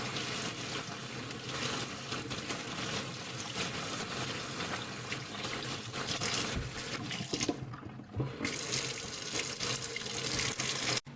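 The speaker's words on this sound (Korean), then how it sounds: "아무런 세제나 이런 걸 쓰지 않고 맹물에 그냥 씻어서 할 겁니다" Tap water runs steadily into a sink as oriental melons are rinsed in plain water, a continuous splashing rush with brief handling shifts and a short dip near the end.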